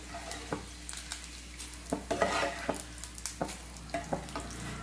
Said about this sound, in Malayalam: കറിവേപ്പിലയും വറ്റൽമുളകൊക്കെ പെട്ടെന്ന് തന്നെ ഫ്രൈ ആയിട്ട് വരുമല്ലോ